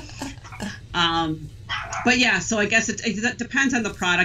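A pet dog barks and yips briefly in the background while a person keeps talking indoors, the barks sharp and intermittent beneath the steady speech.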